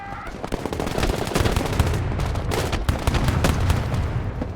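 Dense, continuous gunfire in the Broken Arrow video game, rapid automatic bursts layered with heavier reports, loud and close throughout with no pauses.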